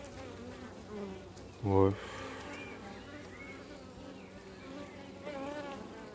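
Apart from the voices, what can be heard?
honeybee swarm buzzing around hive frames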